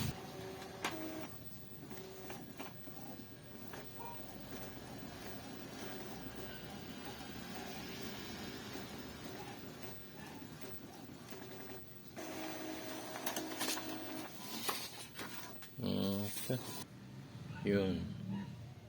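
An Epson L3110 inkjet printer with a colour fault prints a page, its mechanism whirring and clattering steadily at close range, with louder feed clunks near the end while a person talks over it.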